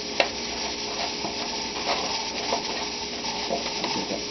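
Carrots tossed with garlic butter in a pan, a continuous close sizzle broken by scraping and clinking as a utensil stirs them around, with no voices.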